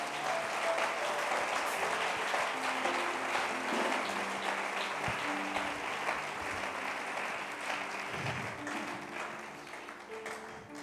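A church congregation applauds the Lord during a French-language sermon, a dense, sustained wave of clapping lasting about eleven seconds and easing slightly toward the end, with faint voices mixed in.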